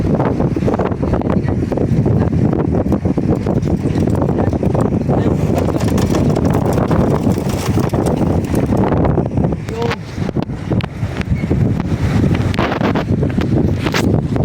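Strong wind roars and buffets the microphone continuously, a loud, rushing gusty noise with no letup.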